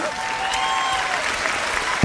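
An audience claps at a leadership talk, dense and steady applause that stays even in level, with a few faint voices underneath.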